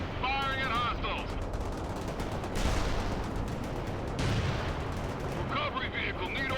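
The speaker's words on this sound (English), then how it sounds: "Firing at hostiles." Gunfire from armored vehicles, including a Bradley APC, in the World in Conflict strategy game after a nuclear strike: dense, continuous booming and rattling shots, loud and close, with brief radio-style chatter at the start and end.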